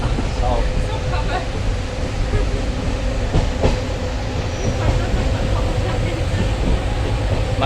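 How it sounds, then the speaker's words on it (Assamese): Inside a moving local train bound for Alipurduar, with a nearly empty carriage and ceiling fans: a loud, steady rumble fills the space, broken by occasional rail clicks and clanks. "দেখুৱাই আছোঁ ট্ৰেইনৰ ভিতৰখন। তো লোকেল ট্ৰেইনত এনেকুৱাই হয়"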